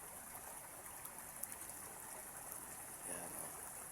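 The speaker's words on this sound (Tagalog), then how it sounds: "Lalakas ng agos guys" A strong river current rushes by in a continuous, fairly faint wash of flowing water, heard from the bank with no clear talking.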